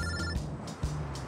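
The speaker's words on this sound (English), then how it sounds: "There goes my phone again." An office telephone rings with an electronic trill in two bursts separated by a short gap, heard at moderate loudness over a steady background.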